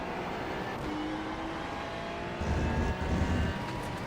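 Engine of a Ferrari 296 in a racing video game at the Rudskogen circuit: a steady, loud engine drone that swells into a deeper, louder surge partway through.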